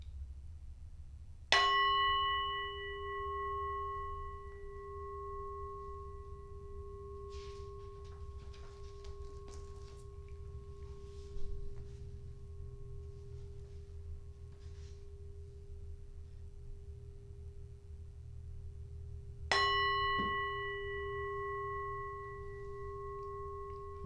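A meditation bell is struck twice, about eighteen seconds apart, each stroke a clear ringing tone that hangs and slowly decays over a low steady hum, with faint rustling between strikes.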